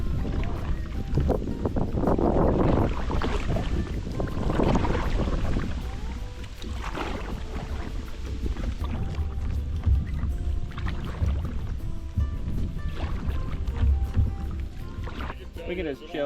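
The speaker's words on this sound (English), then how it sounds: "it's so windy right here" Strong wind buffets a kayak on open water in Pennsylvania, a steady loud rush and gusting roar with splashing water, while people talk over it throughout.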